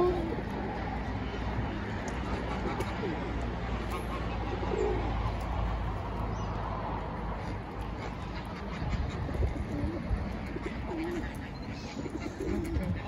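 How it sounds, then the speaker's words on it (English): A pair of pigeons sitting together coo softly and repeatedly over a steady outdoor background, with faint voices now and then. "I really fascinated with these two pigeon together."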